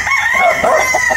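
A single loud, close crow from a native rooster of an old-style breed, a short strained call with a wavering pitch, heard on its own.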